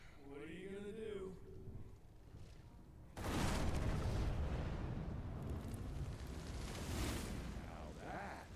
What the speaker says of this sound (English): Now that is how you shape an explosion.